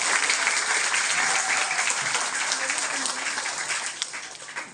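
A crowd gives a dense, continuous round of applause for teachers at a school gathering, loud and unbroken throughout.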